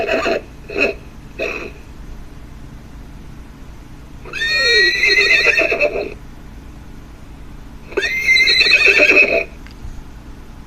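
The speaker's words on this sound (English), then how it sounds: "We'll do the first snort, and then come back and do the second neigh." A FurReal Friends Baby Butterscotch toy horse with a fault gives a few short clicks, then two loud electronic neighing whinnies, each about two seconds long, separated by a quiet pause.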